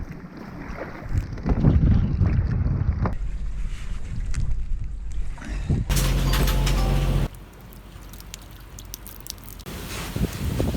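Wind gusts buffet a sailboat at sea off Great Barrier Island, roaring loudly across the microphone in strong bursts over a steady background of water and hull noise.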